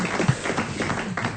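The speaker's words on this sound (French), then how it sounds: "Allez, on vous applaudit" Studio audience applause on a French comedy talk show: dense, steady clapping that fills the whole stretch at moderate level, with a few sharper individual claps standing out near the start.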